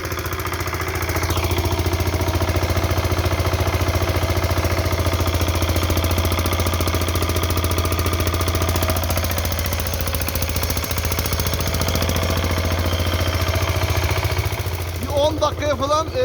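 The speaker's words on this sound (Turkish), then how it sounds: "Bakın o suyu biz şu an başka bir su motoruyla çekmeye çalışıyoruz." A water pump engine running near floodwater makes a loud, steady mechanical chugging drone that holds throughout and eases off at the very end, with a voice talking over it.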